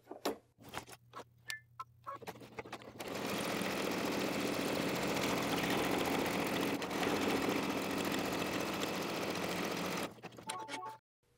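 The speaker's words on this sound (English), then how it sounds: "Put it back in the machine, sew the next color." An embroidery machine sews the next thread color on an in-the-hoop mini stocking. After a few light clicks, a loud, steady mechanical whir runs for about seven seconds, then winds down into more clicks.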